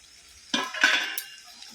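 Panchmishali mixed vegetable curry stirred in a pan, a couple of short scraping, clinking strokes of a utensil against metal, fairly close, with a quiet pause before them.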